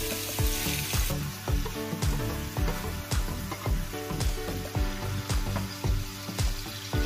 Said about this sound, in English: Got a nice finely cut bacon getting in there.